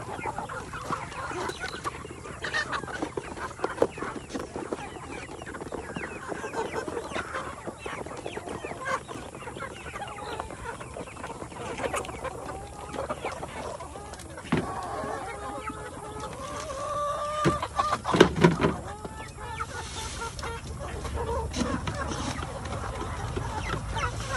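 Chickens at a poultry farm raising four-month-old birds, clucking steadily in a busy, continuous flock chorus with louder bursts near the end, and no talk over them.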